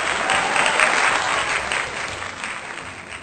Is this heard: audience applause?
yes